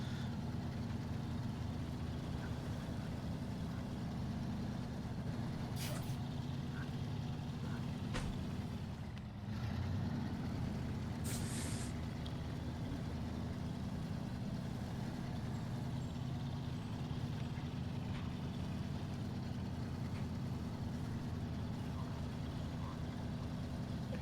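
A heavy truck in the SnowRunner video game rumbles steadily with a low, continuous engine drone, dipping briefly midway before resuming, with a few faint clunks on top and no talking.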